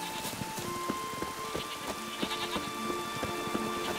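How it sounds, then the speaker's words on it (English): Goats bleat in The Witcher 3, a few short bleats scattered over a steady ambient game backdrop with soft rain-like patter, fairly quiet and with no talking. "Goats, get out of the way,"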